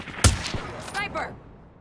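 Gunfire in Call of Duty Black Ops III, with a sharp, heavy shot followed by a second crack and echoing battlefield noise. A shouted voice carries over the combat.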